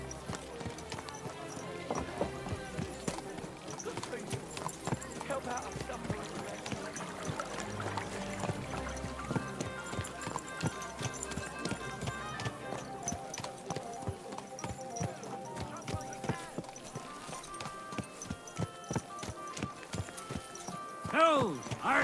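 Horse hooves clip-clop steadily through the in-game world of Kingdom Come Deliverance 2, a rhythmic trot running the whole stretch beneath music and ambient sound, with a voice speaking at moments.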